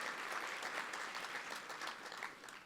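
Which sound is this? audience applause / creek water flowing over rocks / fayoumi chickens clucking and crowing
audience applause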